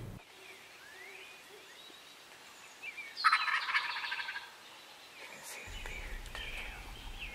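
A wild tom turkey gobbles at the roost during spring turkey hunting season, one loud rolling gobble at a middle distance in an open field, while faint whispered voices and quiet outdoor ambience carry on.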